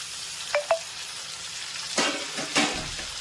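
Onion and tomato fry in a pan with a soft, steady sizzle. A few sharp clicks from stirring stand out, followed by two louder bursts of spattering as more goes into the oil. There is no talk.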